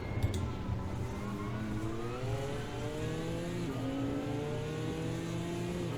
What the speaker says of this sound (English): See what the turbocharged straight 6 of the M4 can do against me here.